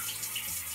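A Tushy bidet sprays a steady stream of water at its lowest pressure, a continuous close hiss and splash like a running tap, alone with no talk.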